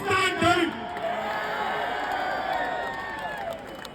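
A large crowd at a London street rally cheers and whoops, a loud sustained roar with shouts rising at the start and then holding as a broad wash of noise.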